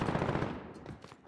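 A video game turret machine gun fires a dense, rapid burst of rounds, loud and close at first, then tailing off before a sharp final shot at the end.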